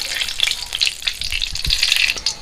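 Two bay leaves and two dried red chillies frying in hot oil, a bright crackling sizzle with irregular pops throughout, close and steady.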